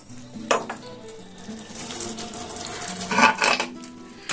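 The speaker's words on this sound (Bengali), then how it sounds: "তো এবারে এটাকে আমি ঢাকা দিয়ে দেব।" Lid clattering onto a metal cooking pot of Bengali matar paneer, with sharp clinks near the start and again toward the end over a soft simmering sizzle.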